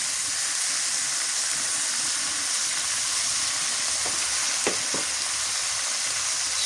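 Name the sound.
meat sizzling while frying with garlic paste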